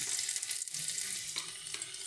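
Crushed garlic dropped into hot oil, a steady close sizzle with light crackling and a few small stirring knocks, no voices.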